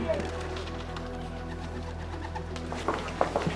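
Pigeons cooing on a rooftop in Beijing, with soft repeated coos set against a steady low urban hum and a few faint voices nearby.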